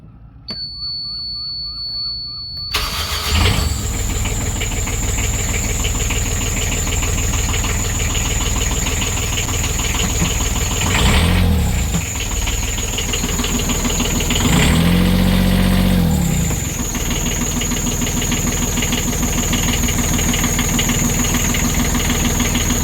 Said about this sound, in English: I'll start the engine and see if it screams at me or not.